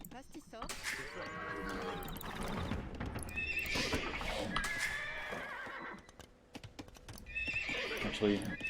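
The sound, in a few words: horses neighing in video game Age of Empires II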